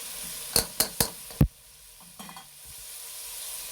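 Carrots and lentils get stirred in a pot with ghee: four sharp spoon scrapes and clinks against the pot come in quick succession, then a faint sizzle and a few softer knocks.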